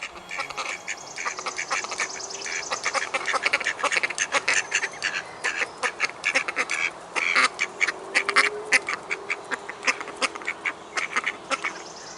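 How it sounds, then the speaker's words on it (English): Several male wood ducks in a park call outdoors with a dense run of short, squeaky quacks and whistles, close and fairly loud, continuing without a break over steady background ambience. "These are male wood ducks."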